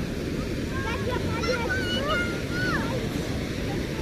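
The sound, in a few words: waves washing on the shore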